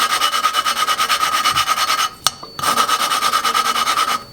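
A Honda GC engine valve is lapped against its seat with a steady back-and-forth grinding rasp, broken briefly by a sharp tap and a short pause before the rhythmic rubbing resumes. Close and continuous, with no talking.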